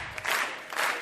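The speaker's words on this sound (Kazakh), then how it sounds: "Қол шапалақлар." Wedding guests break into applause in two swelling waves of dense clapping, moderately loud in a hall during a dance-show performance.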